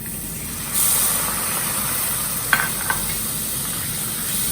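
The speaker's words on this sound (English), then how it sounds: "Go on stirring." Milk is stirred in a pan for mac and cheese over a low flame, a soft steady hiss with a couple of sharp clinks of a spoon against the pan, close up and without talk.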